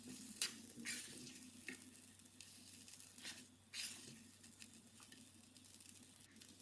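Fruit rava kesari with melted butter being stirred in a pan, giving a faint, soft sizzle with a few light scraping strokes over a low steady hum.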